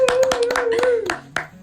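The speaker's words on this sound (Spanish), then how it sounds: "un aplauso para Sindenpart" A handful of people clap briefly for Sindenpart of the Coquimbo Oriente district, with a few distinct hand claps while a voice speaks over them throughout.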